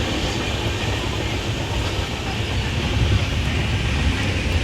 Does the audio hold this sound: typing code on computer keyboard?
no